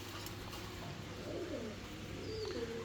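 Quality-bred pigeons coo softly in a loft, a few low throaty coos rising and falling close by over faint background noise.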